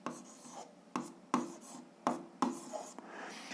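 A pen writes numbers on paper in short, close scratchy strokes, coming in quick bursts separated by brief pauses.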